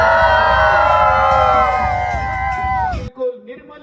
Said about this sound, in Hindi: एक बार तालियां बजा दो बच्चे से।